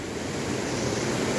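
A swollen Khadu river in Nepal during the monsoon, its water rushing in a steady, dense broadband roar with no pauses and no talk over it.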